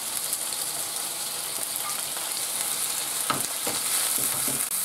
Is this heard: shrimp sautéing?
yes